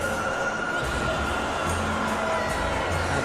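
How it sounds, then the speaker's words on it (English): Simulated stadium crowd in the PES 2021 football game before a Manchester City versus Newcastle United Premier League match, a steady broad murmur of many voices with faint cheering throughout. "There is still movement in the crowd, plenty of people yet to take their seats."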